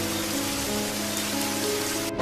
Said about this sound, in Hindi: इतनी तेज बारिश।